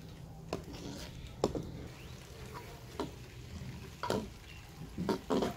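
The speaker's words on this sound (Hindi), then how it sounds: "अब साथ साथ चम्मच को चलाएंगे" Spoon stirring carrot rice gajrela in a pot, with a few soft scrapes and clinks spread over a low cooking bed; quiet and close, no talk.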